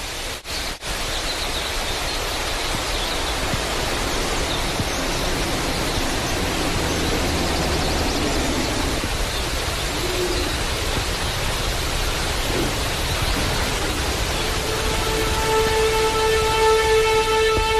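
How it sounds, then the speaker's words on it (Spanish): Birds, a river and a waterfall recorded on location blend with a synthesizer, a constant broad rush of falling water throughout, with sustained synth tones rising in the last few seconds. "Pajaritos, un río, una cascada y un sintetizador."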